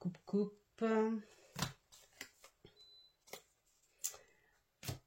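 A tarot deck being cut and handled: a few crisp card snaps and flicks between brief stretches of French speech, close and quiet.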